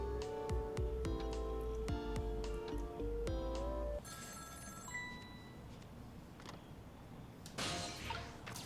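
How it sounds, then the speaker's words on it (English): Ringing telephone in the video game Ghost Trick, heard as a repeated electronic bell-like trill for about four seconds over game music, then fading into softer ambient tones with a brief bright burst near the end. "And we have another phone call."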